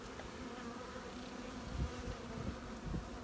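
Honeybees work a hive frame while a swarm is handled, filling the air with a soft, dense, continuous buzzing hum from many insects close by.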